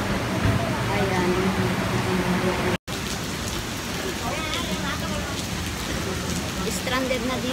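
Heavy rain pours at the Esplanade in Singapore, a dense, constant hiss of drops hitting surfaces, loud and close, with a voice talking faintly beneath it and a brief dropout partway through.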